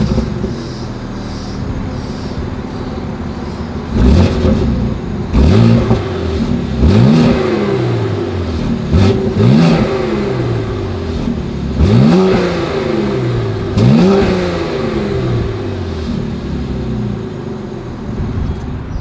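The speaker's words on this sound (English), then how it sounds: "As always, here is that exhaust clip." A 2020 BMW X3 M's exhaust in its loudest mode, revved repeatedly: about half a dozen sharp blips that climb and fall back, loud and close, with a burbling idle between them and no talking.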